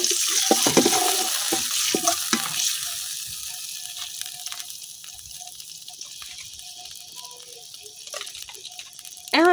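A little water poured onto fried onions in a hot pan gives a sudden hissing burst and stirring clatter at first, then settles into a faint steady sizzle with light bubbling.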